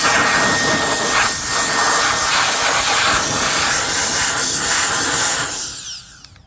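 A Dremel rotary tool grinds a hole larger in a roof rack fairing on a 2024 GMC Canyon AT4X, a loud close high-pitched whine and hiss that runs steadily, then spins down and stops near the end.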